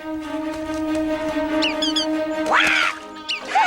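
A duck quacks in the 1995 Chuck Jones animated Peter and the Wolf, with a few sharp, nasal quacks near the end over sustained orchestral tones.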